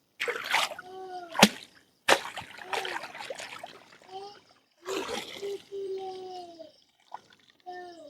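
Cabbage is washed by hand in pond water in a Sundarban village, making short splashes and trickling pours in bursts with pauses, close by, while a voice sounds intermittently.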